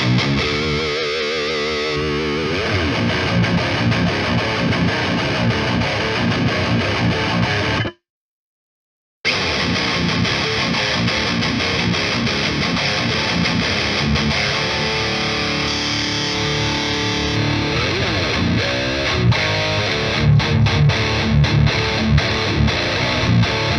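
Heavily distorted electric guitar plays chunky metal riffs, loud and continuous, with a brief silent gap partway through.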